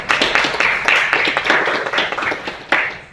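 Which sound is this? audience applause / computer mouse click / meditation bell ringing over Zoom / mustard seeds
audience applause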